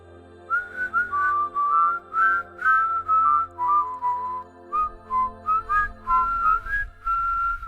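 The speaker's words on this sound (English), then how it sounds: "Then, together, they began whistling, not loudly," A gentle whistled melody, soft and close, in short repeated phrases over a low sustained background tone.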